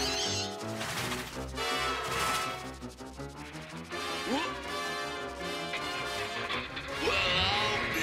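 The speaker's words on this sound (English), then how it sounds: "a train that can't resist smashing into a giant ceramic Abe Lincoln" A loud crash of a train smashing into a giant ceramic Abe Lincoln statue, with breaking and clattering impacts amid a busy cartoon soundtrack and swooping effects.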